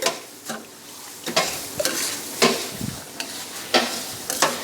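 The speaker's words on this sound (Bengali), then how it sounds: "আমি এখন কন্টিনিউ চালগুলো নাড়তে থাকি ভাজা ভাজা হবে" Rice being fried in a pot for a Spanish dish crackles with a soft sizzle while a utensil stirs it, scraping and knocking against the pot in irregular bursts, close by, with no talking.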